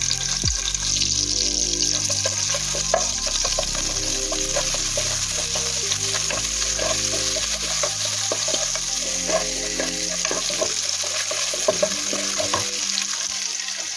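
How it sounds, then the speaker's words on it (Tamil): Sliced mushrooms frying in a little oil for a mushroom and cauliflower gravy, a loud, constant close sizzle with light crackles and occasional stirring scrapes throughout. "கொஞ்சம் ஆயிலில் கொஞ்சம் ஃப்ரை பண்ண போதும்"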